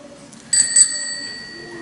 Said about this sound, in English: Every time you hear a bell ring, it means someone's angel just got his wings.